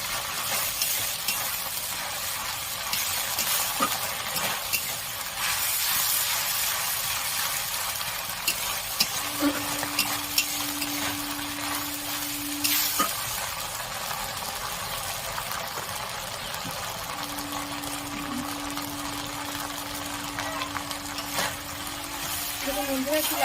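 Ginger garlic paste sautéed in a pan for a katla fish kalia curry, a steady loud sizzle with spoon scrapes running throughout, a low mechanical hum joining partway, no clear talk.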